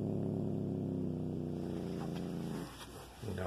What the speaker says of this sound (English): No, no growling.